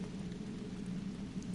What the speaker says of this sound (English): Or I can cast rain